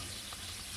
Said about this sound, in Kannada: ಎಣ್ಣೆಯಲ್ಲಿ ಫ್ರೈ ಮಾಡಿ.